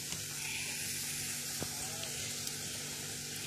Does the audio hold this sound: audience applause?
no